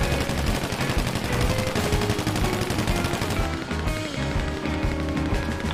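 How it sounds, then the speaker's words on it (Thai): Enemies shoot at the player in the video game GTA Online with sustained rapid automatic fire, a loud, continuous rattle of gunshots that keeps going without a break. "เฮ้ยใครมายิงเราเนี่ย"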